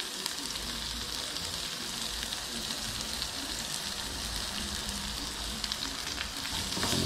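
Dedo-de-moça chili pepper and garlic sauté in hot oil for a fish and shrimp moqueca, giving a continuous, close, dense sizzle that holds steady throughout.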